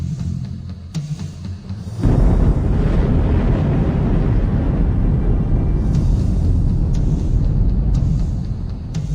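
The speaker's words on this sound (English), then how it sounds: "Magnificent mountains explode as a result of the volcanic pressure beneath them" A volcanic eruption as exploding mountains give off a loud, steady, rumbling roar full of low-frequency noise, starting abruptly after a quieter lead-in and continuing unbroken.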